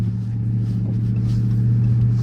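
A Dodge Charger RT with a 5.7 engine rumbles loudly and deeply from close by, a steady low drone with no talking over it.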